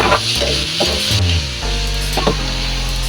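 Tomatoes added to a hot pan of onions for Filipino pinakbet sizzle and fry steadily, with a few clacks of a stirring utensil scraping close up and no voices.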